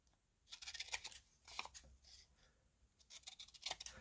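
Scissors snipping out homemade paper labels for collage, a few short bursts of crisp cutting separated by pauses, close and fairly quiet.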